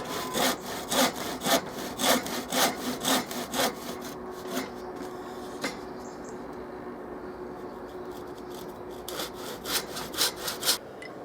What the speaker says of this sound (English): So first I'm going to make them a cut along the lines, just a shallow cut.